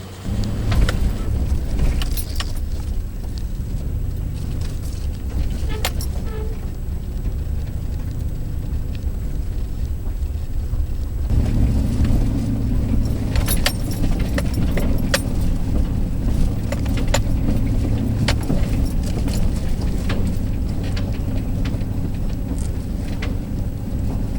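A vehicle jolts along a rough road in Smith Mountain Cooperative Wildlife Management Area, Pittsylvania County, Virginia, with a steady engine rumble, constant loose jangling rattles and occasional sharp bumps, loud and close throughout.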